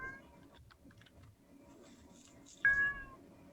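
A nearby cat meows twice, a brief cry at the start and a louder, sharper meow near the end, over quiet room tone with faint keyboard clicks and soft background talk.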